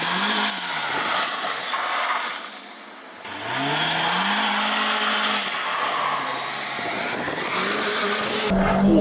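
A turbocharged BMW E21 with an M10B20 engine cornering hard through a left turn at a big intersection, engine revving loud and close with a dip as the driver lifts off, then accelerating again with faint tire noise.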